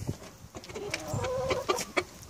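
Backyard chickens, a rooster and a hen, clucking in short repeated bursts close by, a busy uneven rhythm of low throaty calls over light background noise.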